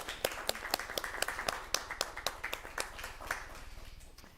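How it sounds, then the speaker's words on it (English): Board meeting attendees applaud in a room, a modest round of scattered, distinct claps from a small group, fairly faint and fading over a few seconds. "I'd just like to give a little round of applause for Forrest."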